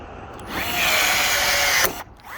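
A power tool sets a rivet in place of a screw during an emergency repair on a 2017 Thor Palazzo RV: one close, loud, whirring burst of just over a second that ends abruptly.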